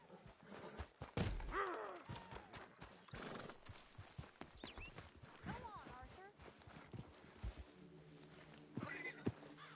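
A horse in Red Dead Redemption 2 clip-clops along and lets out a neigh, with hoofbeats and snorts close by and a voice talking over them.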